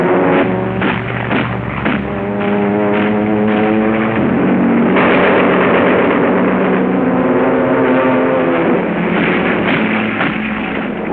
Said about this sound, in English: Overhead, Allied squadrons spread a protecting screen of air power